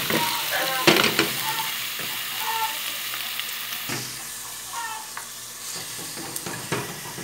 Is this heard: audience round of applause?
no